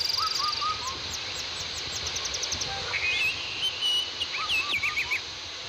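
Several birds chirp and whistle in short bright calls, some close and some farther off, scattered across an outdoor ambience with a steady soft background hiss.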